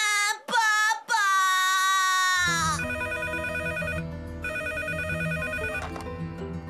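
A telephone rings in a cartoon scene, opening with a few short bright electronic trills, then shifting into a steady repeating ringtone pattern that sounds close and fairly loud, with no talk over it.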